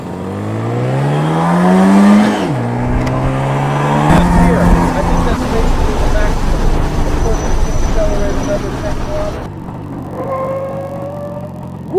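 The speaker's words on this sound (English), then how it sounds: "It was on this motorcycle with a sidecar." A sixty-year-old classic motorcycle with a sidecar runs at speed, its engine droning and rising in pitch through the gears with a steady, loud, close rumble and wind noise throughout.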